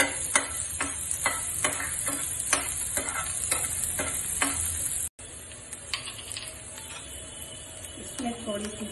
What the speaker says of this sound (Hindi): इसमें प्याज फ्राई कर रहे हैं।